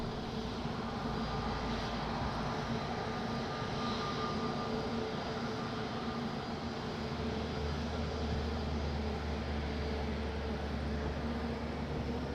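A plane taking off from the runway at Madeira Airport gives a steady, continuous engine roar throughout, with a low rumble building in the later part.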